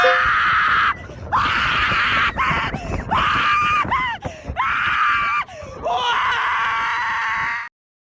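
A woman's scream sound effect, played as an alert for a livestream super chat, rings out loud and close in long, strained bursts with brief breaks before cutting off abruptly.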